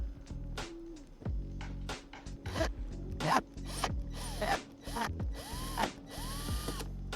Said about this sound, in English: now I'm gonna use the extractor